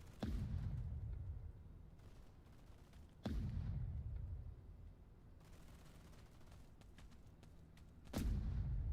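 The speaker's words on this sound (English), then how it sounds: "Fella's dropping bombs on me." Heavy bomb blasts in Deep Rock Galactic, three loud booming impacts near the start, middle and end, each with a long low rumbling decay.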